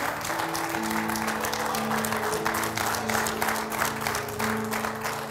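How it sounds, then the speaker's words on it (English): A church congregation claps in praise at the start of a Sunday morning service, steady dense applause lasting throughout, with organ or keyboard tones sustained underneath. "Will you give the Lord a hand clap of praise as we start our service today?"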